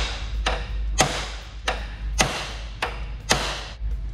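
Sledgehammer hitting a small metal bracket to bend it for a coolant hose on an RS engine swap, six sharp hard blows at a steady rhythm roughly every half second, close and loud over a low background hum.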